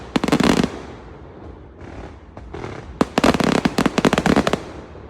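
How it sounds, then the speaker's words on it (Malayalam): New Year fireworks bursting at Kings Domain in Melbourne: a quick cluster of sharp cracking blasts, a quieter stretch of crackle, then a dense rapid string of loud, close explosions rattling off one after another. "9 ഫയർ വർക്ക്സ് ഇവിടെ നിന്നിട്ടാട്ടോ കണ്ടേ."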